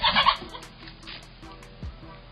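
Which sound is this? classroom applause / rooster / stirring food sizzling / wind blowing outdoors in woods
rooster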